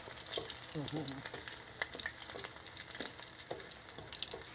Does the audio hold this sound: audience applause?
no